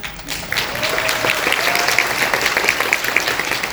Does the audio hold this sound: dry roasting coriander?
no